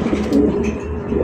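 A pair of imported pigeons coo nearby in a low, continuous rolling murmur, heard alone without speech.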